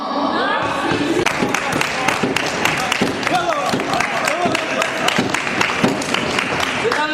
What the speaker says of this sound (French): la dame qui a initié la motion est en train d'applaudir